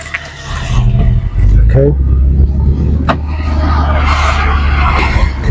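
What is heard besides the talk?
Audi A6 driving on a test drive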